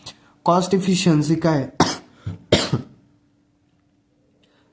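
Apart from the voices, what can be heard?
cough from a sick speaker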